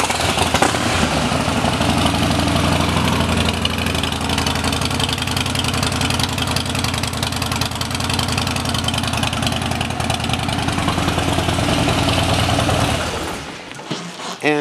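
A 2017 Harley-Davidson Dyna Street Bob with Vance and Hines exhaust idling at a dealership, a loud, close, lumpy rumbling loping beat that holds steady for most of the clip, then drops off near the end.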